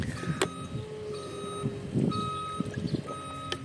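Truck reversing along a village road, its backup alarm beeping repeatedly at a steady pace over a low rumbling engine, fairly close and clear, with a faint hiss like air brakes.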